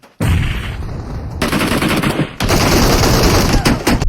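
Rapid bursts of video game gunfire fill the clip, loud and close, with dense automatic fire cutting in and out in several stretches and sharp shots near the end, a voice faintly under the shooting.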